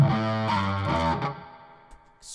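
Electric guitar run through a drive pedal, a few distorted sustained chords with dense buzzing harmonics ringing out loud and close, then decaying toward quiet.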